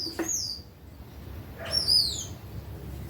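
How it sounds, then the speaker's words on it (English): Birds outside give two high descending chirping calls about a second and a half apart, moderately near, over a quiet low background. "That's birds from outside."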